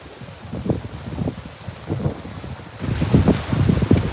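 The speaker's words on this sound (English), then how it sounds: "I know it's very windy here" Strong wind blows at a beach, buffeting the microphone in gusty, rumbling bursts over the distant wash of the ocean, growing louder toward the end.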